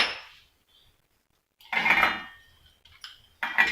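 Lentils clatter and rattle against a steel mixer jar in two bursts separated by quiet, with a few lighter clinks.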